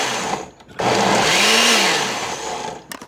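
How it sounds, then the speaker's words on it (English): A countertop blender pulses peppers, garlic and onions for a sofrito, a loud buzzing whir of about two seconds that rises and slowly winds down, with no talking. "I'm going to go ahead and put the lid securely on and give the blender a whirl."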